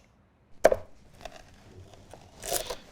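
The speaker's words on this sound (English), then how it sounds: "Just listen to that crunch" A knife or hand breaks into the crispy, charred base of a Roman-style pizza baked in a Gozney Dome oven, giving one sharp crunch followed by softer crackles and a second crisp burst, close and alone.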